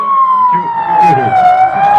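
An ambulance siren wails loud and close on a road, one continuous sweeping tone that dips and rises while traffic rumbles faintly beneath it.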